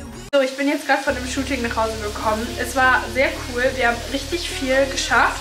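Chicken sizzles steadily in a frying pan, a constant crackling hiss in the background beneath someone talking close by.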